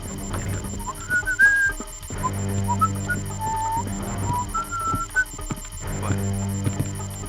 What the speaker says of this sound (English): I like to whistle a little bit while I work